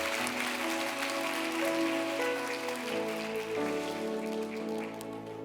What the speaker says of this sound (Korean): 다시 한번 박수해 주시죠.